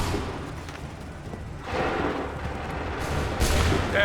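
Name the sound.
soldiers firing volley from video game Assassin's Creed 3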